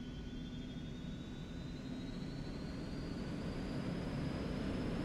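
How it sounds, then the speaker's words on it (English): Airplane engines spooling at takeoff power in X-Plane 11, a constant broad roar with a thin whine slowly climbing in pitch, steady and unbroken throughout. "Alright, so we are lined up and take off power."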